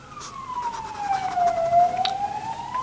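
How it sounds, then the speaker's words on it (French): A police siren wails through a single long falling-then-rising sweep on a Brussels street, moderately distant and steady, with no voices over it. "on entend les sirènes de la police"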